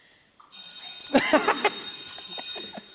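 A short electronic bell rings in a few quick bursts over a faint background hum, fairly quiet and close.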